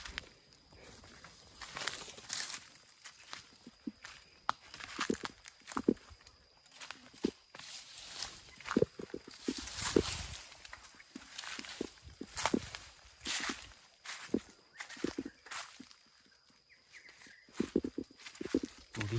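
Footsteps walking through forest undergrowth near a remote shelter, uneven crunching steps repeating close by for the whole stretch, with steady insect buzz in the background.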